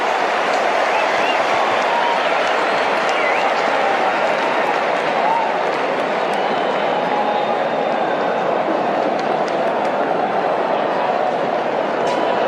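A cricket crowd yelling and cheering through a tense super over, with Tim Southee bowling. The roar is steady and dense, loud from start to finish, with scattered clapping inside the broad wash of voices.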